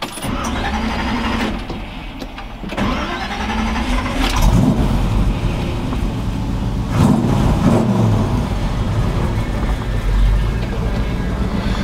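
A modified, restored 1964 Chevrolet C10 hot rod starts up after a few seconds of cranking, then its engine settles into a loud, close, rumbling idle with occasional swells of revving and someone talking over it.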